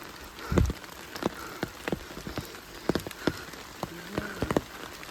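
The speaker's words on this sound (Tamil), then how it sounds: "நல்ல மழை எப்படி வரோன்னு பாருங்கள்" Rain patters on leaves and ground along a forest trek from Kumbakarai to Vellagavi, a steady hiss broken by many sharp nearby drips and splats at irregular intervals.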